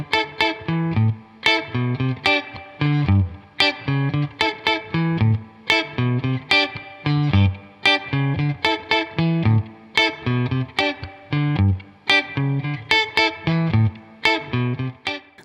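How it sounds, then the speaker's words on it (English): Electric guitar playing a repeating chord pattern through a Boss RV5 digital spring reverb pedal, with a splashy, echoing tail on each strum, loud and up front with no talking. "it was their first attempt at a spring reverb"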